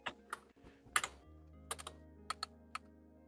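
Keys clack on a computer keyboard in scattered, irregular bursts, quiet and close, with a few louder strikes and pauses between them and no talking.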